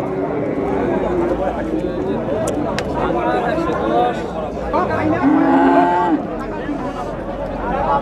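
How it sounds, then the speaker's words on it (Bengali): Cattle low at a busy outdoor market in northern Bangladesh, one drawn-out moo standing out briefly amid constant crowd chatter and someone speaking close by. "আমাদের সামনে যে সাদা ষাঁড়টি রয়েছে জাতি হলো অস্ট্রেলিয়া"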